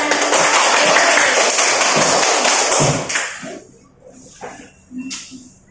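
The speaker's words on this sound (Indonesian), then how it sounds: "Tepuk tangan dulu untuk kita semua." A classroom of students breaks into loud, dense applause for about three seconds, then it stops abruptly, leaving a few scattered claps and light taps in a quieter room.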